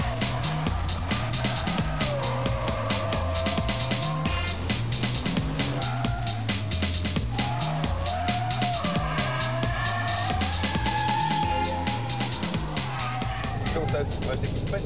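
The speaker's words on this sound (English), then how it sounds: "the most powerful of our four-wheel drive beasts, with 414 horsepower, the Porsche 911 Turbo" A 414-horsepower Porsche 911 Turbo with four-wheel drive accelerates, its engine droning steadily and rising in pitch through the gears. Someone talks continuously over it.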